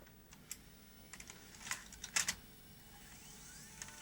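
A rare JVC ProHD 720 tape deck, empty of tape, shuffles its mechanism with a quiet series of small clicks, ticks and whirs, close up and irregular, with no voices.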